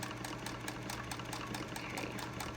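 A sewing machine stitching straight across a fabric face mask, giving a steady, quiet, rapid mechanical whirring with an even repeating pulse throughout.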